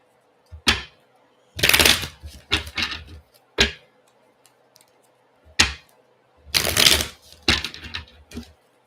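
Tarot cards being shuffled by hand, heard as several loud, close riffles and slaps in separate bursts with quiet gaps between, no talking.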